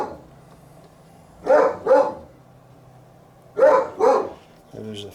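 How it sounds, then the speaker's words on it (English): A dog nearby gives two pairs of loud, quick barks separated by a pause, followed by a softer, shorter yelp at the end. "gotta have a dog barking"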